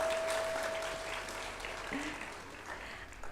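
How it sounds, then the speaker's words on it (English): A graduation ceremony crowd gives a round of applause for SVN's results, a soft, fairly distant wash of clapping that tapers slightly, with a faint tone and brief voice underneath. "A round of applause again for SVN and their results."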